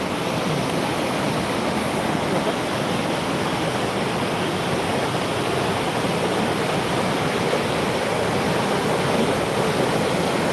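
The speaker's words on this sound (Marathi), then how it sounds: "एवढा पाण्याचा प्रवाह आहे काही सुद्धा होऊ शकतं" Strong rushing torrent of floodwater pouring through a burst lake embankment, a loud, steady broadband roar close by that continues unbroken with no voices.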